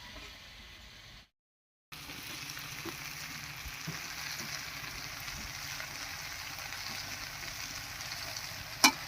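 Cabbage goes into a pan already holding peas for badhakopi ghonto, and after a brief silence a steady close sizzle and frying hiss fills the rest, ending with a sharp clink.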